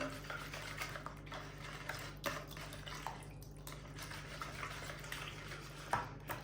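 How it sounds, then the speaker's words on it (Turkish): Eggs and yogurt whisked together in a bowl for baklava dough, soft repeated clinks and scrapes of a utensil against the bowl, fairly quiet over a steady background hum. "İki adet yumurtamız. 2 yemek kaşığı yoğurdumuz. Bunları karıştıralım."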